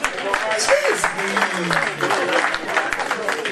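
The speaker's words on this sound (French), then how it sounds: "On applaudit très fort." A crowd at a press cocktail and album launch for an Ivorian artist claps loudly, a sustained dense roar of hands under which a voice speaks.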